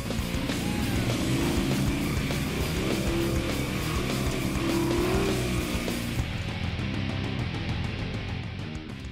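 A 2014 Can-Am off-road vehicle drives through an off-road park, with a steady close engine roar and tire noise that hold throughout.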